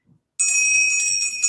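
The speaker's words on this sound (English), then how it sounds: "Rebecca, let's hear your buzzer." A handheld bell rung as a game show buzzer gives one bright, sustained metallic ring close by, sounding alone after a brief moment of quiet.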